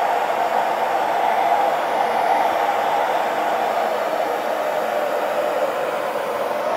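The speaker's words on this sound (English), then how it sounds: "I use now a hair dryer" A hair dryer blows continuously at close range to warm a craft wall picture, a steady loud whoosh of air with no pauses or talking.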